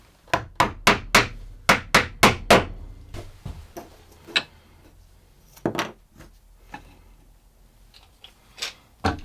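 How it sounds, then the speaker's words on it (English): A hammer taps wooden dowels into table leg holes, close and sharp, opening with a quick run of about eight evenly spaced knocks and followed by scattered, softer taps and handling noise. "I'm going to tap some dowels in, get it pushed together and clamped up."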